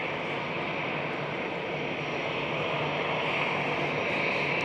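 A KLM Boeing 787 taxiing at Amsterdam Schiphol airport, a steady broadband jet-engine rush that holds level throughout and swells slightly toward the end, with no voices.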